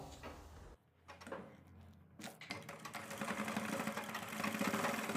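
A sewing machine stitches palazzo fabric while attaching elastic. A few hesitant starts give way to a steady, rising, fast mechanical whir and needle chatter that runs on alone and grows louder.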